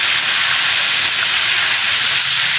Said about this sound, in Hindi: अब हमने 2 टेबलस्पून अदरक शामिल कर दिया है और इसको हमने अच्छे से भून लेना है